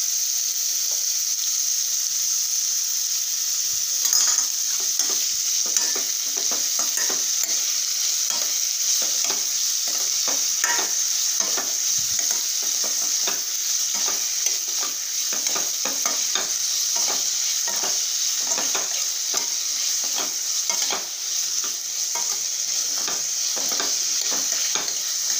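Onions sauté with salt in a pan for paneer gravy, giving a loud, steady sizzle throughout with repeated scraping stirs, close by and alone.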